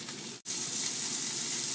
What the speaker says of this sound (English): I love that sizzling sound.